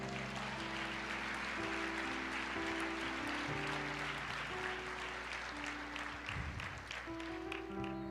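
Church congregation applauding during a worship service, with steady dense clapping over sustained organ or keyboard chords throughout, moderately loud and continuous.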